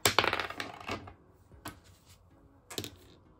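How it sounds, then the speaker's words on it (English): Several dice are rolled one after another onto a hard surface for a budget savings challenge, giving quiet clattering bursts and short tumbling taps separated by brief pauses. "I'm going to roll the dice"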